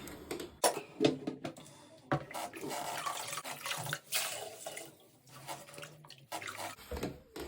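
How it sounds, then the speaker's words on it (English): Water sloshing and dripping as a sponge soaks water out of an American Standard toilet tank, with wet squeezing and splashing bursts, close by, in an uneven rhythm with brief pauses. "all the water out with the sponge."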